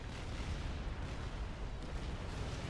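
Artillery fire rolls on in the real-time strategy game Supreme Commander: Forged Alliance, a dense, continuous rumble of overlapping distant blasts with no distinct pauses and no talking.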